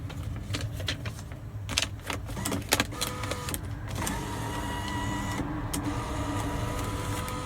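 Photo booth bill acceptor in Japan pulling in a 1,000 yen note, a close mechanical whirring and rattling with a series of sharp clicks, then a steadier motor hum toward the end.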